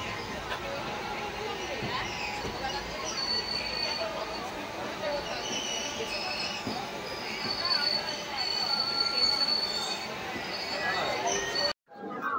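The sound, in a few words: moving passenger train interior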